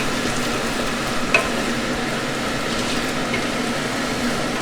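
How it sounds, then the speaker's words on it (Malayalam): Chicken curry with yogurt is mixed in a pan, a constant close frying hiss with faint stirring motion and one small clack of the utensil partway through. "എന്നിട്ട് ഇത് നന്നായിട്ട് മിക്സ് ചെയ്തെടുക്കുക."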